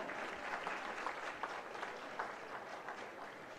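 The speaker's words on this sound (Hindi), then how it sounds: "तालियां जोरदार हो।" Audience applause at an award ceremony honoring nursing students, with steady, dense clapping from a large crowd continuing throughout without a break.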